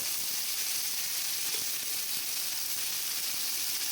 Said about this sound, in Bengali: তেলটা গরম হয়ে গেলে দিয়ে দিলাম বরবটি গাজর আর আলুগুলি দিয়ে ভালো করে আমি এখন নেড়ে চেড়ে নেবো